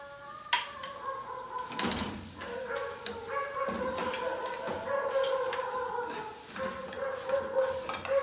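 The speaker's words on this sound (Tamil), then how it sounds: "நான் பாதி நட்ஸை கலந்துட போகிறேன்." A spoon stirs crushed nuts through hot ghee in a pan while making carrot halwa, a steady scraping and soft sizzle with a few louder knocks of utensil against the pan.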